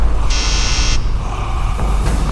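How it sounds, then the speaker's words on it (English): A blaring electronic alarm sounds in a dramatic scene, a loud steady buzzing tone that holds for about a second and then continues more faintly over a low rumbling background. "Suddenly, a blaring alarm."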